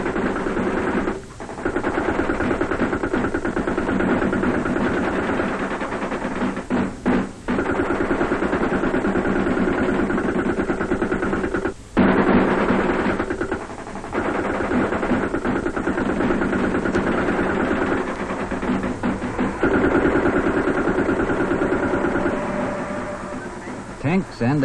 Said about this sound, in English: Tanks and APCs may move right into a village and give covering fire when called upon.